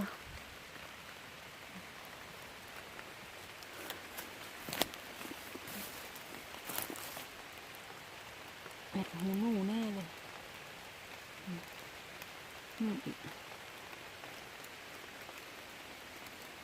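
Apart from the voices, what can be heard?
rain falling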